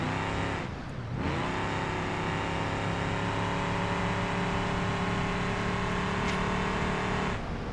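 A loud off-road car engine in the BeamNG driving game drones steadily and close, revving down briefly near the start before holding a strong, continuous roar throughout.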